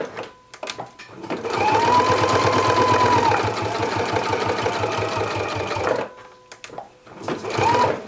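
Sewing machine stitching binding onto fabric while making a huswif, a steady fast mechanical whir that runs for about five seconds, stops, then starts again briefly near the end.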